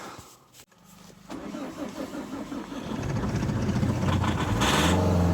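An Opel Zafira B with the Z19DT diesel engine cranks and fires up in minus 10 winter cold, catching after a brief crank and settling into a loud, rough, steady running rumble close by.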